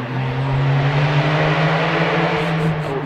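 A Porsche rally car accelerates at the Rally Falperra 2011 stage, its engine giving a loud, sustained roar whose pitch climbs slightly as it pulls away, close by and alone.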